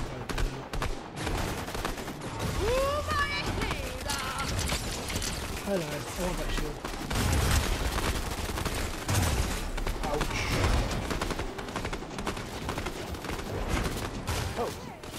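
Gunfire in a video game, dense rapid volleys of shots and automatic bursts with mechanical clatter, loud and sustained throughout, with a voice speaking over parts of it.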